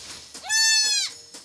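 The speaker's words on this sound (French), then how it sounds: "pour aller voir nos chèvres" A goat on a farm gives one loud, close, wavering bleat lasting about half a second, with faint background noise before and after.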